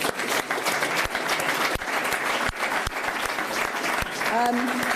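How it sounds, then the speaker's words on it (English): A conference audience in Bruges gives a warm round of applause, sustained dense clapping filling the room at steady volume with a few sharper claps standing out, and a brief voice near the end. "Can you please give them a warm round of applause again?"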